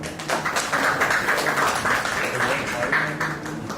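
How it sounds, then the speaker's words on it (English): A conference audience at an international conclave gives a guest a round of applause. The clapping is dense and sustained, mixed with voices talking over it throughout. "can you have a few round of applause for him?"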